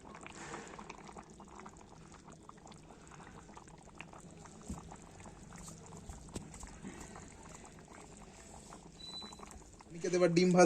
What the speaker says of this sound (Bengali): মাংসতে জল অ্যাড করা হয়েছে আর ফুটছে এখন